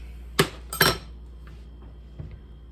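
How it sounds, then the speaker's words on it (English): A metal lid set back onto a pan while a grilled cheese cooks in a kitchen, two quick clanks close together, close-up and fairly loud, followed by a faint tap. "So lid back on."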